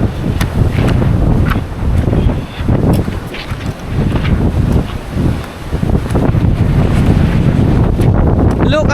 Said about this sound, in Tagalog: Hindi lang sana malakas yung hangin